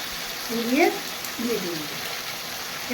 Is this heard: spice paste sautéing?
yes